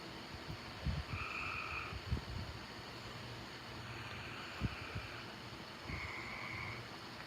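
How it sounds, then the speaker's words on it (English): Water frogs croak in a quiet outdoor setting, several throaty calls repeating at intervals against faint wind and distant low rumble. "They're some kind of water frog or something."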